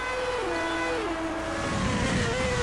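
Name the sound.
Formula 1 race cars driving in racing video game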